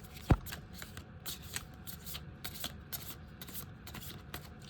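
Tarot cards being shuffled close up, a rapid series of crisp papery riffles and flicks with one sharp tap at the start.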